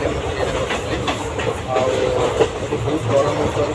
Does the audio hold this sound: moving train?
yes